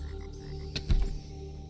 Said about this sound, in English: At the edge, your party sees a small orange frog